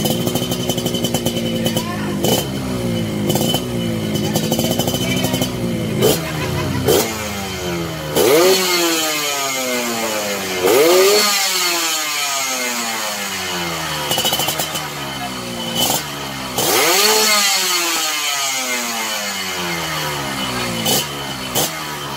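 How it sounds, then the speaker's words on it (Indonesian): A Yamaha RX King two-stroke motorcycle fitted with a racing exhaust revs hard and repeatedly, each throttle blip rising to a raspy, bassy wail then falling back to idle, loud and close, with someone talking at times. "Suaranya ngebas kalau di gaspol"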